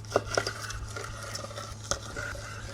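A knife cuts through the seared crust of a wagyu steak, giving a few faint crunchy scrapes and sharp ticks against a plate over a steady low hum.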